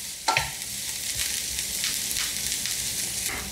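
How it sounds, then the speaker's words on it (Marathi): Vegetables with garlic, pepper and salt stir-frying in olive oil in a pan, a steady close hiss of sizzling with soft scraping stirs and a sharper clink of the spatula near the start; no talking. "आता हे मिसळून घेऊयात आणि 2-3 मिनिटं चांगलं परतून घेऊ."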